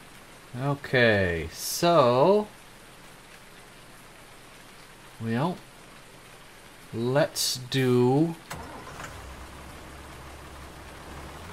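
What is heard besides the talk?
rain in the video game Farming Simulator 19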